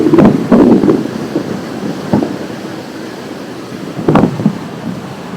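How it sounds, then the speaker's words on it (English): Rushing water and wind noise over the low hum of twin Mercury Marine 600hp V12 outboard motors on a Tiara 48 LS boat, with a few louder splashing bursts rising and falling, no voices. "Crazy that you hear the water over the motors."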